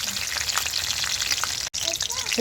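Mustard and cumin seeds crackle and spit steadily in hot ghee while tempering for a bottle gourd buttermilk curry, a dense close sizzle with popping bursts and one brief dropout.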